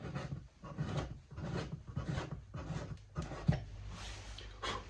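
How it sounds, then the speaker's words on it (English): A small hand reamer enlarges the holes in a guitar bridge, giving close, faint rhythmic scraping strokes of metal against wood, repeated about eight times. "I'll just ream these out a little bit."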